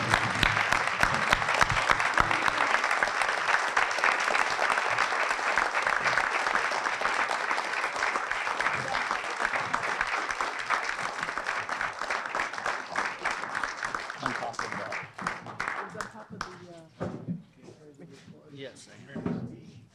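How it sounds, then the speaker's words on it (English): Sustained applause from an audience at a Vermont-style town meeting, dense and steady clapping filling the room for about fifteen seconds before thinning into scattered claps and a few voices at the end. "Please join me in a round of applause for this year's town report dedication, Lois Fry."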